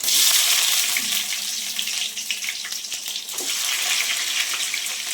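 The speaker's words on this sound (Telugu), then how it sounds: "ఆవాలు వేసుకొని కొద్దిగా చిటపటానిన తర్వాత" Mustard seeds spluttering in hot oil in a pan, a close, steady crackling hiss with scattered sharp pops that eases slightly midway and then builds again, with no voices.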